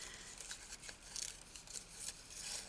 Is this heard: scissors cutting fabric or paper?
yes